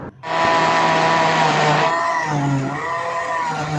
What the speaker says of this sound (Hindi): अब हम टमाटरों को ब्लेंडर में डाल देंगे और इसे ब्लेंड करेंगे, इसका पेस्ट बना देंगे।